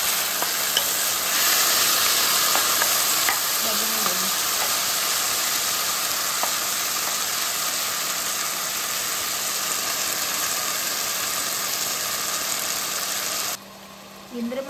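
Chicken and potato pieces fry in oil in a single pot for fried rice, giving a steady, dense sizzle throughout with occasional faint scrapes, close and constant until it cuts off near the end.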